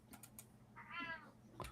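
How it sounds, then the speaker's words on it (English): A cat gives one soft, short, rising meow, faint and fairly close, with a few light keyboard-like clicks before and after it. "sounds like a happy cat"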